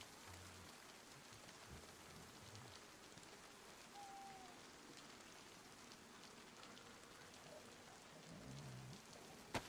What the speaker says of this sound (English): Boy, is it raining.